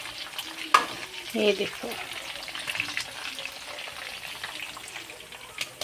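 Mutton frying in a pan for Kashmiri kanti, a steady sizzle with scraping stirring strokes near the start, close and moderately loud; someone speaks briefly over it.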